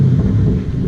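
Pontiac Trans Am engine giving a deep, loud, steady low rumble at close range, one continuous burst with no voices.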